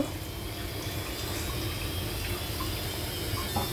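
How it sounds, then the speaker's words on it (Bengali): Rose water pours into a pot of Hyderabadi-style beef biryani as a continuous, close liquid rush and splash with a steady low rumble and no talking. "এখন আমি এর মধ্যে এখন একটু গোলাপ জল দিয়ে দেব"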